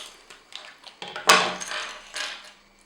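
Close crinkling and rustling of a thin plastic LEGO minifigure packet, a few short crackles followed by a sharper tearing rip, then softer rustles fading out.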